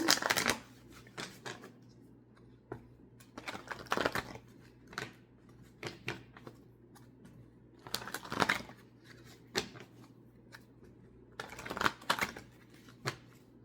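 Tarot cards are shuffled in repeated bursts of crisp riffling and soft flicks, close up and fairly quiet, with short pauses between rounds.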